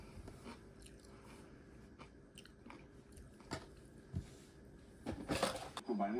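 Biting and chewing on a garlic manju, a Korean sweet bun snack, close to the mic: a few soft crunchy bites scattered through, with louder chewing near the end and quiet room noise between.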